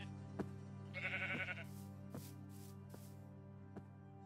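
A sheep in the Minecraft Blightfall modpack bleats once, a short soft cry, amid a quiet game soundscape with a steady hum and a few light clicks.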